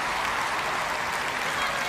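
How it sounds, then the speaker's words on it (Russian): An audience applauds after a Dimash Kudaibergenov performance, producing a dense, even wash of clapping that stays loud and unbroken for a couple of seconds. "Димаш Кудайбергенов, аплодисменты!"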